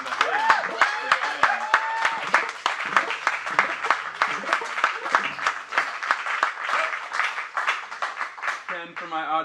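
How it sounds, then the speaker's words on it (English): An audience breaks into a round of applause, dense clapping that fills the whole stretch, with voices mixed in and a few cheers near the end. "everybody to give me a round of applause"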